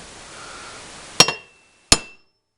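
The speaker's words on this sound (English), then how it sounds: "I'm going to use a center punch to start a drill bit mark" A center punch is struck twice on metal while marking a fishing rod holder for drilling: two sharp, bright metallic clinks about a second apart, each ringing briefly, with no speech.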